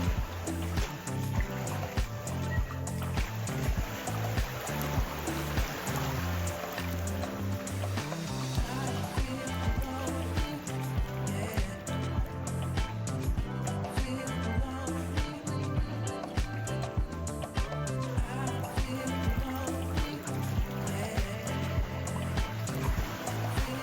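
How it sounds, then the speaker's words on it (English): Water lapping and trickling across rocks along a rugged shoreline path, a steady close wash of splashing and gurgling that carries on alone without pause. "The sound of the water lapping across these rocks is really therapeutic"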